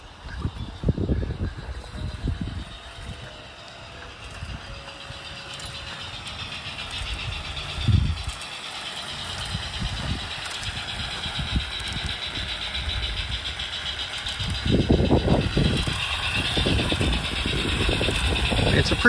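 A heavy model steam locomotive runs forward and backward on a small track with a rough mechanical chugging and low rumbling bursts that swell and ease, close by, with some talk over it.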